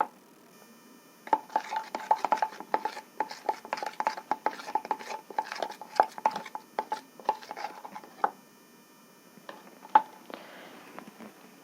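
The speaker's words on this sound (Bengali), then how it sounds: "এটাকেও দিয়ে ভালো করে মিশ্রিত করে নিতে হবে।" Blue detergent powder ingredients being mixed by hand, giving a run of quick scraping and patting strokes in a steady irregular rhythm, close and moderately loud, that stops near the end apart from a couple of isolated knocks.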